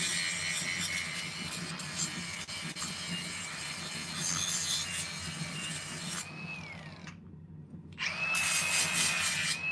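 Hand saw blade cutting through a piece of metal for forge welding, continuous rough rasping strokes close up, pausing briefly near the end before resuming.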